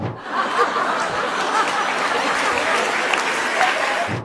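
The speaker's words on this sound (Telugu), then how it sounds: "చుట్టూ ఉన్న వాళ్ళంతా చప్పట్లు కొట్టారు" An audience applauds steadily at a joke about Mumbai Indians, a dense, sustained wash of clapping from a crowd with faint chuckles mixed in, lasting throughout before dropping off at the end.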